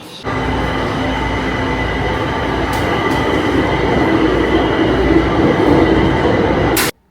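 A Kaohsiung subway train in Taiwan runs loud and close, a steady rumbling roar of wheels on track with faint squeal, lasting several seconds before cutting off abruptly.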